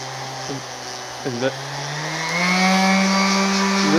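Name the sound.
cordless random orbit sander running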